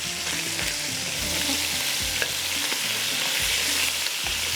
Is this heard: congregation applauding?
no